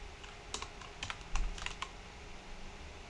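Fingers tap quietly on a computer keyboard, a short scattered cluster of light clicks near the middle against a soft steady background hiss.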